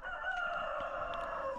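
A rooster crows outdoors on a cold day, a sustained, loud call held steadily with no talk over it.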